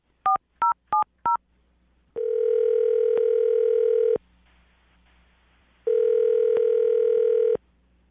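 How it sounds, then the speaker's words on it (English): Four quick touch-tone beeps of a phone number being dialed, followed by two long, steady ringback tones with a pause between them, clear and alone on the line. "I'm about to dial the phone number and get her on the phone"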